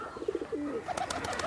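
A tawda pigeon coos softly nearby, a few low, rolling calls rising and falling over a faint background hiss.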